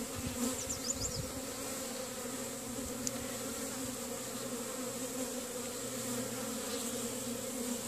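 Honey bees buzz steadily around an open beehive during a hive inspection, a dense continuous drone close by with occasional fainter insect whines, no talking.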